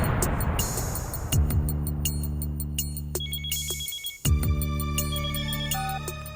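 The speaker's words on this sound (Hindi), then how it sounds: "सर, इंस्पेक्टर कामत का फोन था" A telephone rings loudly with a repeating electronic tone pattern, steady and close, briefly cutting out before resuming; no speech.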